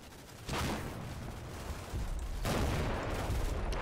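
Infantry gunfire in the Combat Mission: Black Sea wargame, a dense crackling fusillade of rifle and machine-gun shots that swells in two bursts, moderately loud with no talk.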